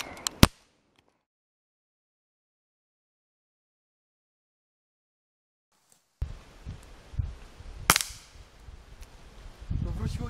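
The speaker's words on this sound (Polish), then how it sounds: "Przejdźmy do strzelania." Several sharp shots from a Dan Wesson 6-inch airsoft gas revolver, a crack near the start, then a long silence, then more pops and clatter with background noise.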